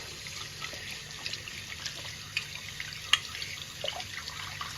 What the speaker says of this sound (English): But we're gonna rinse this off.